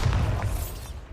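Bombarda blasting spell in Hogwarts Legacy: a single short, muffled boom with a deep thud that decays quickly, brief and fairly soft.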